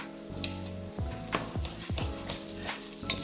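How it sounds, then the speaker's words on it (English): Garlic sizzles in a soup pot as it is stirred, with a steady frying hiss broken by a few scraping spoon strokes against the pot, close and moderately loud. "we're gonna go ahead and add this garlic in. Give that a good stir."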